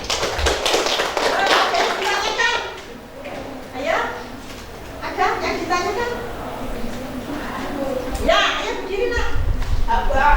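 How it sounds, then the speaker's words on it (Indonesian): Applause breaks out in a school classroom, a burst of many hands clapping near the end, following a stretch of a teacher and children talking. "Ya, tepuk tangan."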